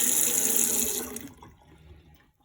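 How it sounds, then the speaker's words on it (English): Cold water runs from a kitchen tap while hard-boiled eggs are being prepared, a steady close hiss of flow that cuts off partway through, leaving quiet room tone. "So I just get some cold water."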